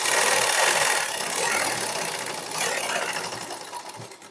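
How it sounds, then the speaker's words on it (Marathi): A sewing machine stitching along a blouse neckline runs steadily as a continuous whirring buzz, close and fairly loud, easing slightly toward the end. "तर आपण शिलाई मारून घेऊया"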